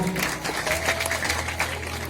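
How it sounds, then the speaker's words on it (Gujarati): An audience at a school function bursts into applause welcoming guests onto the stage, a short dense burst of clapping throughout with a faint background voice. "જોરદાર તાળીથી વધારો"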